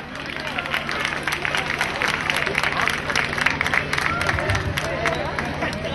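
Sustained applause and crowd noise at an evening song festival, steady and fairly loud across the whole stretch with dense clapping and some murmuring, no distinct voice standing out.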